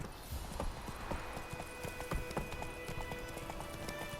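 Geralt's horse Roach gallops in The Witcher 3: Wild Hunt, a steady, close clip-clop of hooves pounding in quick rhythm throughout, with faint ambient game sound behind.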